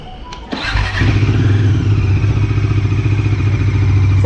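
Bajaj Dominar 400 motorcycle engine starting up, then idling loudly with a steady throbbing pulse as the throttle is blipped, close by with no talk.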